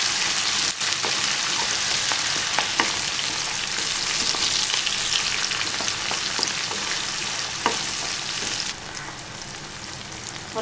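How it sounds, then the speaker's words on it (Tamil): Chopped onion, garlic and tomato sauté in a hot pan for a lentil dumpling curry, giving a continuous, close sizzling hiss with faint stirring ticks and no voices. "தக்காளி நான் பெரிய தக்காளியே ஒரு 2 தக்காளி எடுத்து நறுக்கி வச்சுருக்கேன், அதை கூட சேர்த்து நல்லா வதக்கிக்கணும்."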